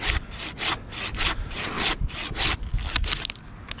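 A sharp Silky handsaw cuts through a white pine in quick, rhythmic back-and-forth strokes, about a dozen rasping pulls close to the microphone.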